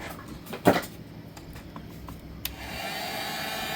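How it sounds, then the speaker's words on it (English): A heat gun warms a moldable artificial duck foot, starting as a steady airy blowing hum that grows fuller near the end, after an early handling clunk. "You just take a heat gun and heat it up."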